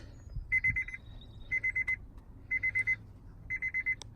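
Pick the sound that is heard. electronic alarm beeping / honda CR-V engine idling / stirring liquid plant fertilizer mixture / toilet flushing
electronic alarm beeping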